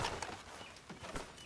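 Horse hooves clip-clopping in a video game, a quick run of near, moderately loud hoof strikes over roughly a second and a half.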